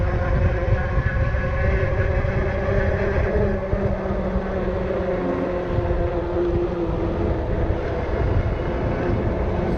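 A Juiced HyperScrambler e-bike under throttle on a trail gives a steady, loud, continuous drone with a tonal motor whine and broad wind and road rush, holding constant throughout without pauses.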